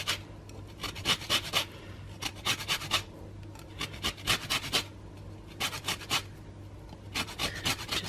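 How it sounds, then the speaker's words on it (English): Lemon rind scraped on a small grater, a close, crisp rasping in quick clustered strokes, several groups of rapid scrapes separated by short pauses, with no talk. "I'm just going to use a small grater and grate all the rind."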